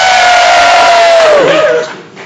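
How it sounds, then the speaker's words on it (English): A packed live audience at Heartlands lets out a huge, loud cheer, a dense roar of voices with a shrill whistle on top that fades away after about two seconds. "after 3, a huge cheer, take the roof off"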